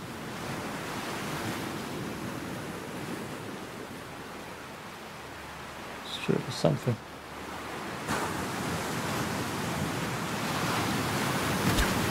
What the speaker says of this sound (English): Maybe it's part of music, the water noises.